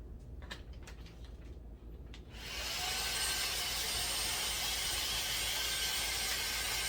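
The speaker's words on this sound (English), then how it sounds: "I'm just going to be using my vacuum just to suck all the air out." After a couple of seconds of quiet clicks, a vacuum cleaner switches on and runs with a loud, steady rushing whine, sucking air out of a comforter storage bag.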